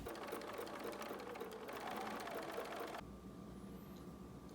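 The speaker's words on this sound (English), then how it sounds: "we're going to sew along these 2 edges all the way along here" A sewing machine runs steadily along both edges of a fabric face mask, a close, even whir that stops abruptly partway through and leaves quiet room noise.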